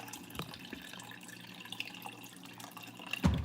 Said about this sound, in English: Pour water in here.